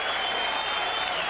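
A boxing arena crowd applauds Chris Byrd during his fight with Vitali Klitschko: a short, dense burst of clapping and crowd noise, loud and continuous.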